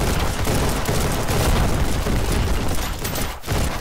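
Heavy, continuous battle noise from Ancient Warfare 3 as an RPG rocket strikes a spike, with booming blasts and gunfire packed into a dense, loud roar and a brief dip near the end.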